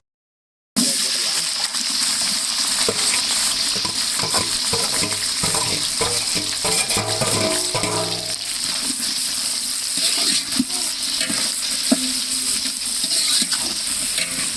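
A large batch of onions for chicken biryani frying in a pot, a dense close sizzle with frequent scraping stirs and light spatter throughout, with some talk over it.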